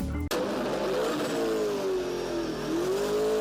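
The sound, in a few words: drag racing car engine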